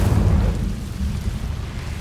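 Incendio fire spell cast in Hogwarts Legacy, a loud, deep roaring burst of flame that swells at once and then rumbles on steadily with no voices over it.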